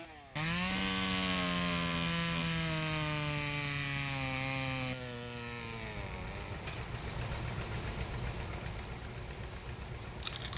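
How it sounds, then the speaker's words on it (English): A 1960s John Deere chainsaw runs at a tractor show, a loud, steady buzzing engine that holds high for about five seconds, then drops to a rougher, lower idle that sputters on to the end. "Ever see a John Deere chainsaw?"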